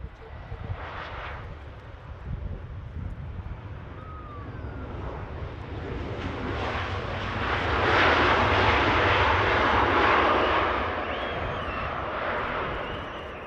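Ryanair airliner passing during live airport coverage, its jet engines a broad rumbling roar that builds to a peak, then slowly fades, heard from a distance with no talk.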